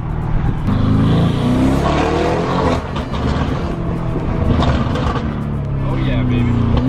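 A Lamborghini Urus drives at steady speed, its engine a loud, continuous drone and road roar throughout, with voices talking over it inside the cabin.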